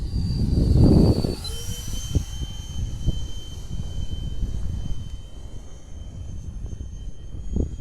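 A small jet-powered model F-86 plane whines steadily with a high engine tone, a louder rush passing early, then a continuous drone at a distance, on a windy day.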